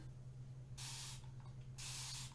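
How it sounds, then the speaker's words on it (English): A handheld spray bottle filled with plain water releases two fine-mist bursts, each a soft hiss lasting about half a second, close and clear over a steady low hum, with no talking. "I'll just spray them with, this is just filled with water, that's it. And it's a fine mist, so it's not like a jet"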